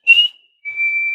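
A whistled melody from The Bridge on the River Kwai, the march tune, carried by one person: a short breathy whistled phrase, a brief pause, then a long sustained clear whistled note, close and fairly loud.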